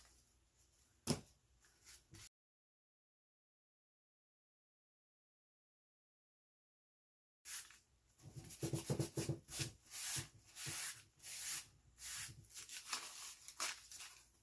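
Wax rubbed into small holes pressed in a Dollar Tree foam board, heard as close, scratchy rubbing and dabbing strokes in an irregular rhythm, with one earlier brief scrape before a silent gap.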